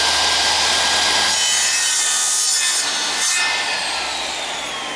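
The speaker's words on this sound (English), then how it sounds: "If I want to cut an angle on the end of this piece of timber" A radial arm drop saw cuts an angle across the end of a piece of timber, giving a loud, continuous rough whir and chatter of the blade biting wood, close up, easing off slightly toward the end.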